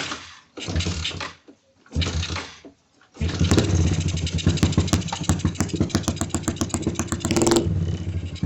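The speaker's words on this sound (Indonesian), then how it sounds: "bisa teman-teman dengar sendiri kalau motor ini berebet di putaran bawahnya" A Yamaha Jupiter MX motorcycle engine, fitted with a PE 26 carburetor, coughs in short bursts, then settles into an uneven, sputtering low idle with rapid irregular pulses, close by.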